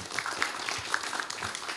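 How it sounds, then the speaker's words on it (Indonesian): An audience claps at a Sibakul 2024 small-business gathering in Klitren, Yogyakarta, a soft, busy patter of many hands heard from some distance with a few sharper individual claps standing out. "tepuk tangan"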